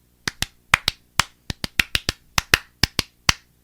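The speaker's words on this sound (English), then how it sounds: "first we gotta give claps for Wenzel" A short burst of sharp claps or snaps, about fifteen crisp hits in an uneven rhythm, close and loud, with no talking.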